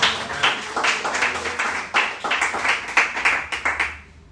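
Church congregation applauding during a worship service, a dense sustained round of clapping with irregular bursts that fades out near the end.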